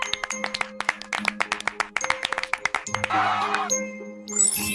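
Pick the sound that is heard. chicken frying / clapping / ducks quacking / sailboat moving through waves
clapping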